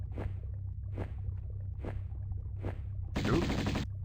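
Gunshots in the 1996 Tomb Raider game, four evenly spaced sharp shots at a steady pace followed by a brief harsher burst, moderately loud over a low background hum.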